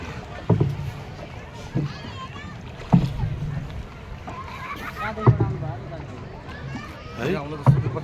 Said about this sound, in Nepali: है अब सुरु भयो डुङ्गा सवारी।